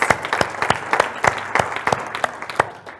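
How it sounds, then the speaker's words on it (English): An audience at a live event claps for the organisers in a brief round of distinct, fairly sparse hand claps that thin out toward the end. "Let's give them a round of applause."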